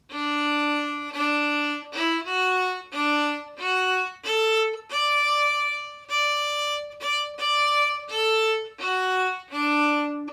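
A violin plays Scotland the Brave slowly, clear sustained bowed notes each held about a second with short breaks between, alone and close.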